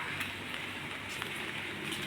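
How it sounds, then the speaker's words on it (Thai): Rain falls steadily outdoors in the early morning as a dense, even patter and hiss that continues throughout without pauses. No voices are heard. "โอ้ฝนตกดี"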